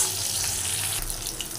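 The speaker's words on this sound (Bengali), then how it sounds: "মাছগুলো খুব সুন্দর লাল লাল করে ভেজে নিচ্ছি আগে।" Rohu and catla fish pieces fry in hot oil with a steady, dense hiss and crackle that holds at an even level throughout, with no voices.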